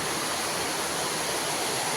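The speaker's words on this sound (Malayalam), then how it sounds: "ഭയങ്കര മഴയാണ്." Heavy rain pours steadily outside a home in Kerala, a dense, continuous broadband hiss that stays loud and even throughout with no talk over it.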